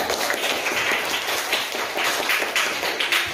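A classroom of students clapping their hands together in a rhythmic class clap, a dense, bright patter of many hands with loose pulses, fairly loud and close.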